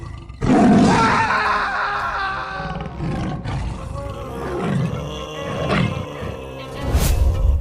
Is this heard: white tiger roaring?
yes